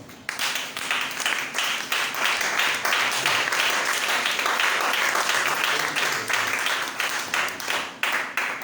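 Church congregation at a Bible seminar clapping together in a dense, lively burst of applause that swells and holds, then thins out toward the end, with scattered cheers and voices mixed in.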